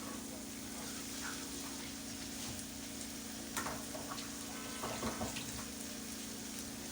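A little water is added to a cooking meat pie filling mixture in a pan, giving a steady, even hiss and sizzle with a few soft clinks over a constant low hum.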